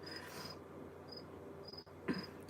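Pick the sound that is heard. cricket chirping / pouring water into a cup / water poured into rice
cricket chirping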